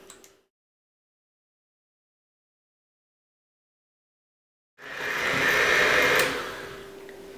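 Electric mixer whipping coconut cream, starting after a long silence and then running steady and loud for a couple of seconds.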